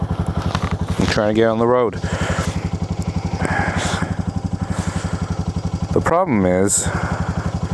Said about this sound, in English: we're going to start the bike up.